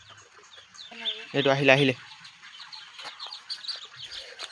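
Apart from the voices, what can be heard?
ducklings being caught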